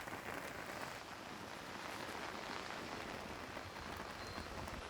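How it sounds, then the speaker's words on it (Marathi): Heavy unseasonal summer rain falls steadily on a surface in Pune, a soft continuous patter and hiss heard at low volume with no talking. "जोरदार पावसाला सुरुवात जी आहे ती पुण्यात झालेली आहे"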